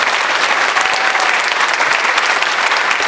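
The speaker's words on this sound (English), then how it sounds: "Can we have a round of applause for them?" Steady, dense applause from a large audience, a continuous wash of clapping at even loudness throughout with no voices standing out.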